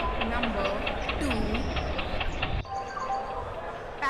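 A WDG3A diesel locomotive rumbles and clatters steadily at an Indian railway station while a public-address announcement plays loudly over it.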